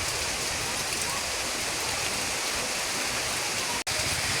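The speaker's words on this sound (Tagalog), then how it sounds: "Ang lakas-lakas ng ulan" Heavy rain driven by wind pours down as a loud, unbroken roar of water, steady throughout apart from one brief dropout near the end.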